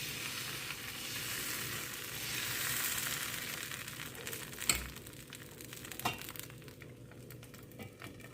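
Water apple dosa batter hits a hot griddle and sizzles in a steady crackling hiss that slowly fades, with a few sharp taps and scrapes near the end.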